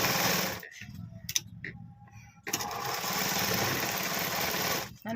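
A sewing machine stitches three lace pieces together for a doori, a steady close whir that stops for a moment, clicks a few times and then runs on again.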